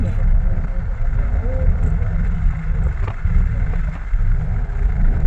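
A car creeping slowly along a hilly road in Purulia, with a steady low rumbling engine and road drone from inside the vehicle and no clear changes in pace.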